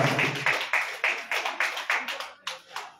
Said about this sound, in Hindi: एक बार आप लोग तालियों से स्वागत कीजिए